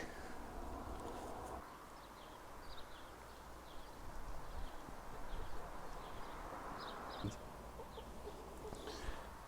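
Soft hen clucking scattered over a rustling outdoor background, with a few short calls rising and falling at a moderate distance.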